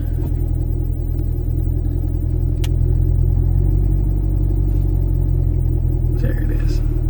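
Chevrolet SS Camaro with a manual transmission, its engine rumbling steadily at low speed as it rolls away with the parking brake released; a deep, continuous, loud idle-like drone with slight swells.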